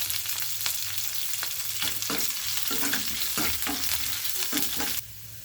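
Shallots and curry leaves sizzle in hot oil for a banana stem curry, a continuous crackling fry broken by repeated scraping stirs, close and fairly loud, ending abruptly into quieter sizzling.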